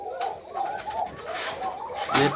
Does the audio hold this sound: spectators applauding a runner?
no